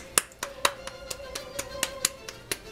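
Hands clap gordita dough balls flat, a series of sharp, soft slaps in a steady rhythm of about ten pats, close and fairly quiet.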